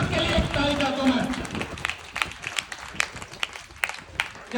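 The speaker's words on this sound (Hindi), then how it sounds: "एक ताली अपने भगवान के लिए बजा लीजिए।" Seminar audience applauding in a hall, a sustained wash of clapping from many hands, loud at first and then thinning into scattered claps toward the end.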